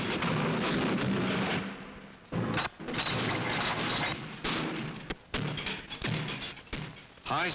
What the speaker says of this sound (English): firing to make sure the magazines and mechanisms of all multiple shot rifles and shotguns are in perfect working order